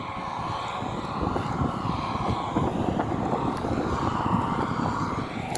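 Steady, loud wind buffeting the microphone outdoors, a continuous low roar with gusty rumble throughout and no voices.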